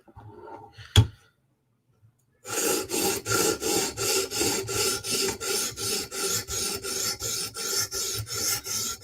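Sharpie marker is rubbed off the 15V steel blade of a Spyderco Military 2 knife in steady back-and-forth rasping strokes, close and even, about two per second, after a brief knock and a short silence.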